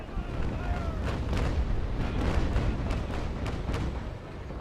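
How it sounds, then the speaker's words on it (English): Cannon fire from a sailing frigate in the naval battle game Naval Action Legends: a rumbling series of deep booms rolling over each other, with sharper cracks spaced through the stretch, loud and continuous with faint voice chatter. "I'm trying to see if I can get a couple of cannonballs up his stern"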